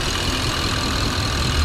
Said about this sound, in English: FSI engine noises.